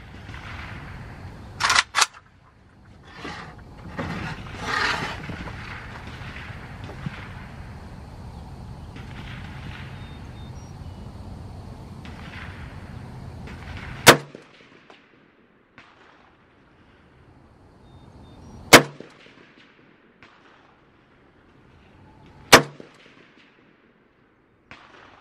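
Firearm gunshots at a shooting session, a few sharp loud cracks spaced several seconds apart after a stretch of handling noise and rustling, close and alone.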